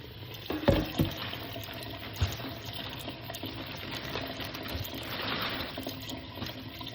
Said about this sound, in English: We'll add more water.